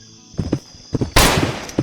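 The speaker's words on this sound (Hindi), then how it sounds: "और गोलियां भी चलाता रहा कि ताकि मेरी दहशत बनी रहे" Gunfire in a Roblox video game, a few sharp loud shots and a burst, close and punchy, with no talk.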